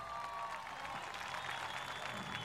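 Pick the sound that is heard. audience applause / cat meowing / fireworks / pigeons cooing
audience applause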